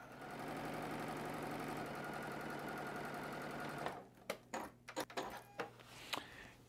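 A sewing machine stitches fabric strips together with a fast, even mechanical whir for about four seconds, then stops, followed by a few scattered clicks and handling knocks nearby.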